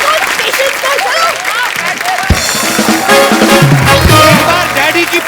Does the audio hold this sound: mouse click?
no